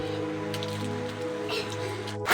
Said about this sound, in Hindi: बारीक बारीक वाली बूंदाबांदी होना स्टार्ट हो गई है।